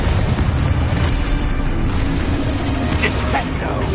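A Confringo fire spell from a Harry Potter-style video game bursts in a loud, dense, sustained explosive roar that fills the whole stretch with rumbling boom and crackle.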